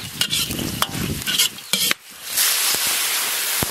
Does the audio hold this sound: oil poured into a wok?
yes